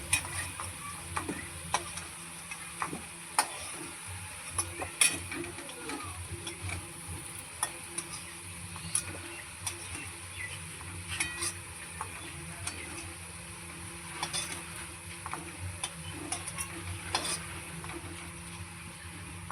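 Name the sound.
potatoes being stirred and lifted out of frying oil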